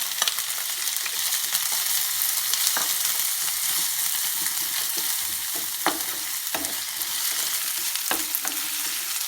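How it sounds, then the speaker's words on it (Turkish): Steady crackling sizzle of half-moon sliced onions frying in hot oil, close up, with occasional clicks and stirring scrapes throughout. "doğradığım soğanları əlavə edirəm."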